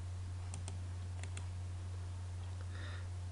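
Quiet clicks of a computer keyboard while working in AutoCAD, a few quick paired keystrokes in small clusters over a constant low electrical hum, with no talk.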